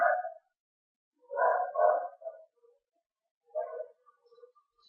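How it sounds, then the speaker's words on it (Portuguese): Neighbourhood dogs bark at a distance, a few short bursts of barking separated by quiet gaps, faint and somewhat muffled. "cachorrada aí da vizinhança hoje está um pouco alvoroçada"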